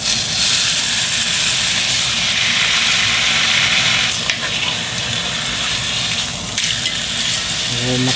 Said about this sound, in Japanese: こちらでお肉を焼いていきたいと思います